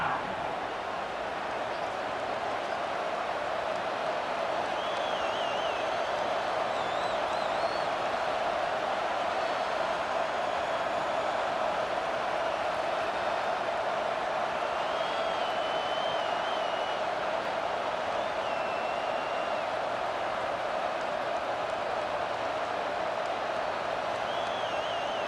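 Stadium crowd in the College Football 26 video game: a steady, dense roar of a large crowd holding at an even loudness throughout, with faint higher calls now and then.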